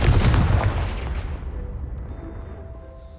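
A Confringo fire spell explodes against a pile of debris in Hogwarts Legacy on PS5: a loud, close blast that booms at once, then rumbles and fades over a few seconds, with a faint chime in the tail.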